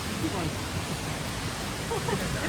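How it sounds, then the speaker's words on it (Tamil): A small waterfall at Atla in Kerala pours with a steady, even rush of white water, close and continuous for the whole short stretch, with no talk heard over it. "இங்கே ஒரு மினி ஃபால்ஸ் இருக்கு"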